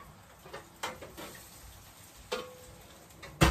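Food frying in a pan on residual heat while a packed lunch is made, a soft low sizzle with a few faint ticks and clicks, quiet and close.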